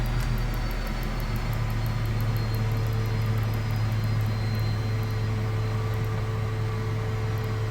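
Learjet 35A engines in a flight simulator drone steadily, a loud, unbroken jet hum with a constant tone running throughout and no talk over it.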